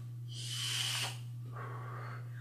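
Someone takes a short hit from a vape, a soft airy hiss of inhaled breath lasting under a second, followed by a fainter breathy exhale, close and quiet over a steady low electrical hum.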